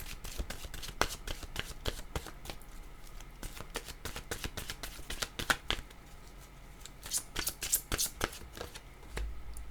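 Oracle cards being shuffled by hand in a quiet room, a steady stream of crisp papery riffles and flicks, close and moderately soft.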